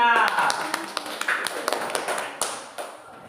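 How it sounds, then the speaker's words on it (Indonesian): Scattered classroom clapping for a student group after its presentation, a loose run of individual claps that thins out and fades over a few seconds, with voices talking over it at the start. "Tepuk tangan untuk kelompok 3."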